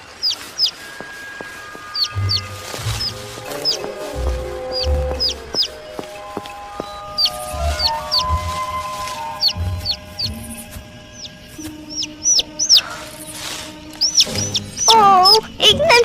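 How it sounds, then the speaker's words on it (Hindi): A tiny cartoon bird gives rapid, high, repeated chirps in quick clusters throughout, over soft background music and occasional low thumps. "ओह, एक नन्हा सा पंछी।"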